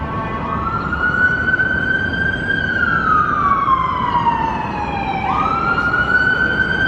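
A loud wailing emergency vehicle siren rises and falls slowly over city traffic noise near Love Park in Philadelphia, close by and continuous throughout.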